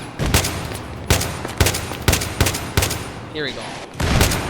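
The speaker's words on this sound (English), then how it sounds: "I'm gonna be quiet so you just can hear the sound of me getting shot at right now." In Battlefield 3, gunfire rains in on the player: a string of loud, sharp shots and short bursts at roughly one-second intervals, close and punchy, with a brief spoken remark between volleys.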